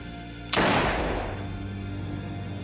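A single loud gunshot cracks out sharply and its echo slowly decays, staged for a crime reenactment.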